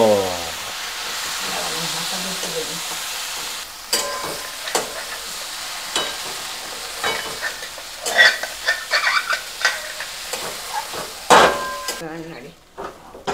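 Lentils with turmeric, sugar and a splash of water for mugjhura being stirred in a pan, a steady sizzle broken by repeated scraping and clattering spoon strokes, growing busier toward the end.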